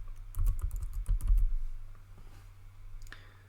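Quick burst of typing on a computer keyboard, a cluster of close, crisp key clicks that trails off, followed by one faint click.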